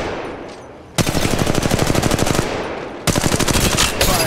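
Sustained automatic gunfire in the battle royale game Apex Legends: two loud, close bursts of rapid shots, each lasting a couple of seconds with a brief gap between them.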